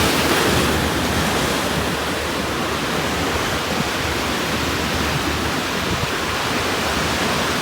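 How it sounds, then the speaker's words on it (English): Ocean surf breaks on rocks by tide pools in a dense, continuous roar of crashing water that stays loud and steady throughout, with some wind rumble and no voices. "ocean"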